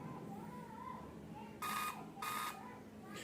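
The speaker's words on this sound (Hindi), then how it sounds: "ये जो बीप आ रही है" Two loud bursts of beeping from a Dell laptop powering on with its RAM removed, each about a third of a second long, standing out against a faint background hum.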